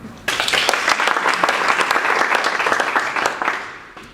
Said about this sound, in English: The sound of applause from this lovely audience